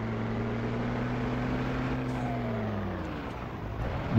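A loaded Volkswagen dump truck in Grand Truck Simulator 2 runs with a steady, droning engine whose pitch climbs and then falls away near the end as the load eases, with no voices.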